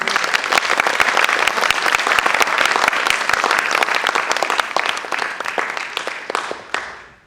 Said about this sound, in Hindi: तो एक बार तालियों स्वागत कर दीजिए।